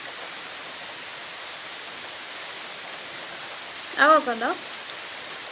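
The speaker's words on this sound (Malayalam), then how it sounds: "പുറത്ത് നല്ല മഴയാണ്" Heavy rain outside makes a steady, even hiss throughout, and a person speaks briefly over it near the end.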